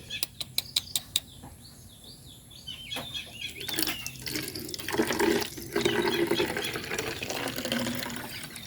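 A liquid herbal remedy for goats being poured from one container to another without a funnel, giving a continuous splashing, trickling flow that swells midway, with birds chirping faintly outdoors and a few knocks at the start.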